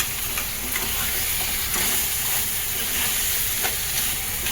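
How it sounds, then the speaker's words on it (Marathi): Masala for a crab recipe sizzles and crackles steadily in hot oil on a gas stove, a loud close hiss with small spitting pops and no talking. "मस्त मसाला चरचरून घेतो आम्ही"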